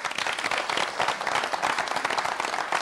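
A studio audience breaks into lively applause during a halftime football broadcast, continuous close clapping with a few whoops, thick and even throughout.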